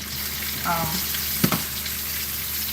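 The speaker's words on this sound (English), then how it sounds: "And this heat, believe it or not, from the oil is going to cook this salmon" Stuffed salmon with a spinach filling cooks in hot oil in a pan, a steady close frying sizzle with a couple of brief clinks near the middle.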